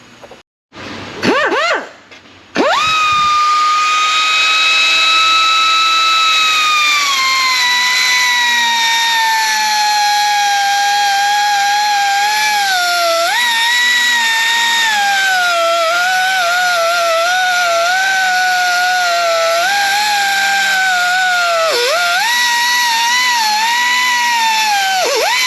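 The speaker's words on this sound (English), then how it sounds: "then we're just going to brap it with the air chisel to crack it, and then it should free up" An air chisel hammers at a seized sensor, starting with a few short bursts, then running as one long, loud, piercing high-pitched rattle whose pitch wavers and dips under load.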